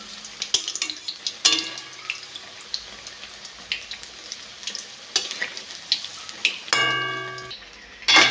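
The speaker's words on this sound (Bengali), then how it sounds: "একটাতে হয়ে গেছে উল্টে দেবো উল্টে পাল্টে ভালো করে ভেজে নেবো" Potato peel pakoras fry in a pan of oil with a continuous bubbling sizzle, punctuated by sharp metallic clinks and scrapes as pieces are turned over.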